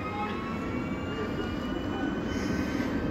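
A number 12 city tram in Sofia rolls past with a steady, continuous rumble and faint high metallic whine. The sound holds at an even level throughout, and no voices are heard.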